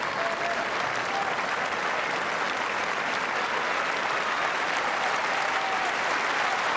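A Wimbledon crowd at a 2007 men's singles tennis match applauds both players, dense continuous clapping filling the whole stretch at a steady level.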